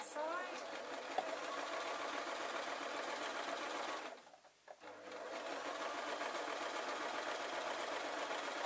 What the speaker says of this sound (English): And then I'm going to sew the inside.